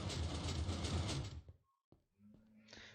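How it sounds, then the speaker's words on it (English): Doors open in the Minecraft video game after an alarm is disabled: a loud rushing mechanical slide, then a brief silence, followed by a few quieter clicks and clunks. "There we go, and the doors will open."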